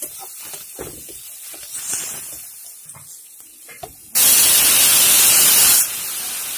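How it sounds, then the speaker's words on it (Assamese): Potatoes and tomatoes sizzle in a pan over a medium flame, a steady hiss that starts quietly under small clatters and then swells into a loud, even frying roar for a couple of seconds. "এইখিনি এনেদৰে মিডিয়াম ফ্লেমত ভাজি থাকিম।"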